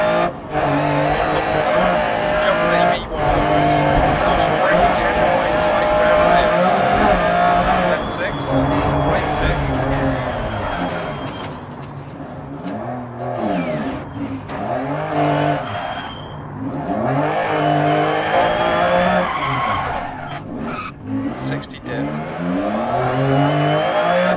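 A Lancia Stratos rally car in the video game Dirt Rally, engine revving up and down with repeated rising and falling pitch sweeps and tire skids, loud and close, while someone talks over it.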